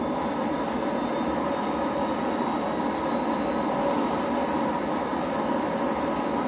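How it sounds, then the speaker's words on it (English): Plane engine in Grand Theft Auto 5 roaring in a steady, continuous broadband drone while landing at a hangar, moderately loud and unchanging, with no talk. "I'm gonna land my plane."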